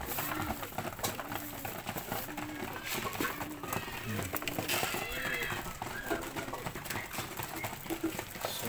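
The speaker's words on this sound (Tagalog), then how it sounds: "nagaganda ang mga kalapati natin guys" A flock of pigeons coos in a loft, with soft, repeating rounded calls heard steadily throughout under a busy background of other noises and some faint talk.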